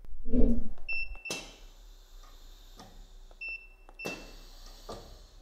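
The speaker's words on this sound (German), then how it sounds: "jetzt simulieren wir einmal den Werkzeugwechsel" A CNC milling machine for watchmaking runs an automatic tool change, a sequence of mechanical clunks, whirs and short electronic beeps, with pauses between the separate movements.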